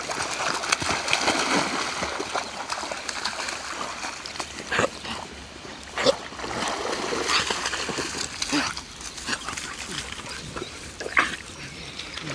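Young puppies, some only twelve weeks old, splash and paddle in a summer swimming hole, making steady churning water with occasional sharper splashes while people talk throughout.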